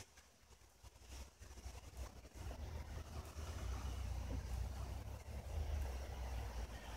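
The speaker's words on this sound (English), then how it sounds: "Somebody's driving around out here near the camp. I think it's an all-terrain vehicle." Distant all-terrain vehicle driving around near an outdoor camp, a low engine rumble that swells gradually louder and steadier over several seconds, faint and far off with no voices.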